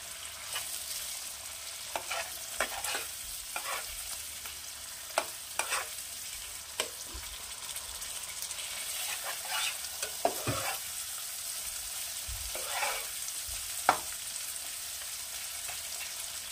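Chopped tomatoes frying in a pan for a Bengali winter vegetable curry, a steady soft sizzle broken by frequent scraping stirs and occasional sharp spatula clicks, close and fairly quiet with no talking.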